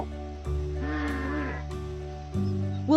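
Sheep bleat several times in an animated children's farmyard story, wavering calls close up over soft background music, with no talking over them.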